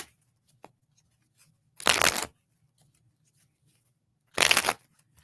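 Tarot cards are shuffled in two quick, crisp riffling bursts separated by a quiet pause, close and clear with faint handling rustles between.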